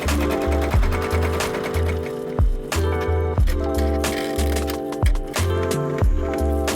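An embroidery machine stitches out a design on a white shirt using a fast frame, its needle hammering in a steady loud rapid rhythm with periodic brief thumps and pauses, no voices.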